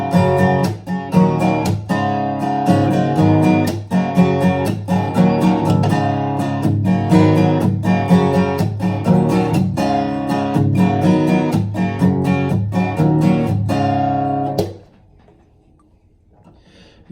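A strummed guitar plays a steady chord progression with a regular rhythm, fairly loud and close, ending abruptly into near silence.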